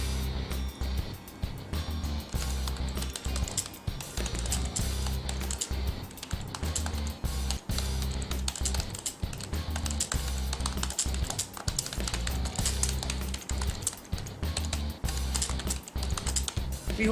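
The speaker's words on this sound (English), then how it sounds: "I can start typing using my standard keyboard." Rapid, continuous typing on a standard USB keyboard connected to a Samsung Galaxy Note 3, close and crisp key clicks in an irregular stream with brief pauses, no talking.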